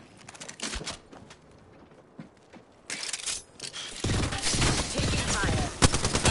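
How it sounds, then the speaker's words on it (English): Bursts of video game gunfire in a battle royale match, sparse shots at first, then dense, loud, sustained rapid fire building toward the end. "Taking fire."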